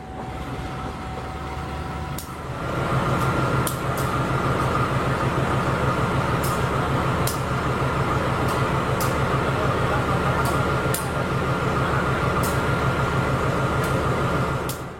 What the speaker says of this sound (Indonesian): Ini ada rangkaian kereta full eksekutif masuk.